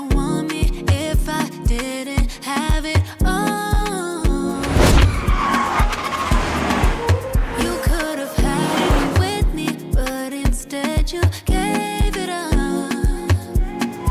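Car tires squeal and skid through a busy music track in a music video, the screech swelling in the middle over a steady beat with no talking.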